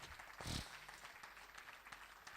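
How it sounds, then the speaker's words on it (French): A church congregation applauds during a sermon, a faint, distant patter of clapping with a brief low thump near the start, sitting under a steady background hiss. "Applaudissons Jésus-Christ pour sa persévérance."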